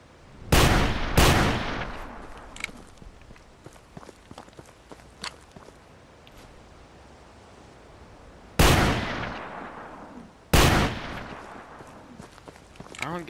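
Shotgun blasts aimed at a rabbit in the Hunting Simulator game: four loud, sharp booms in two pairs, the first pair close together, a long quiet stretch with faint footsteps, then two more shots.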